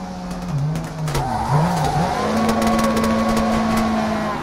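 A rally car in the WRC 3 racing game slides through a hairpin on the handbrake, with a loud, close engine whose pitch wavers through the turn before settling into a steady drone, under gravelly skidding noise.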